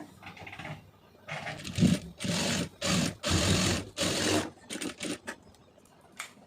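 A sewing machine stitches a folded blouse lining in several bursts of steady motor-driven stitching, with short pauses between runs, close and fairly loud.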